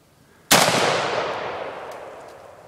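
A single loud AK-47 rifle shot fired outdoors, a sharp crack followed by a long, slowly fading echo rolling away over a couple of seconds.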